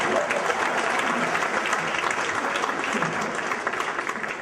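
Audience at a Macedonian stand-up comedy show breaks into applause, a dense, even wash of many hands clapping close and loud throughout.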